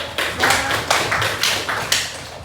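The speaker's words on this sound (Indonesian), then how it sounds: "Oke, tepuk tangan dulu." A small group claps hands at a school guidance-counselling training session, with several bursts of applause in quick succession, fairly close and steady, with no talk.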